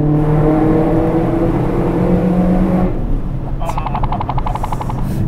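Maserati GranTurismo on the road: a loud, close engine and exhaust drone with a falling pitch, then a whirring, fluttering tone as it drives on, with faint talk inside the cabin.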